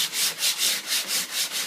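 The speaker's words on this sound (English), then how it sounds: "you would sand the bottom right on the line" Sandpaper rubbing across the bottom of a shower fixture to scuff the surface before an inlay is glued on: steady, close back-and-forth strokes, about seven in a regular rhythm, with no talk.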